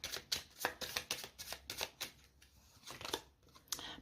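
Tarot cards being drawn and handled from a deck, a run of quick papery flicks and slides close by, with a few sharper snaps, recorded alone without talk.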